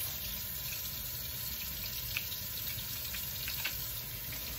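Water runs steadily from a tap while a spray gun cup and lid are rinsed, a constant hissing splash with occasional faint clinks, close and even throughout.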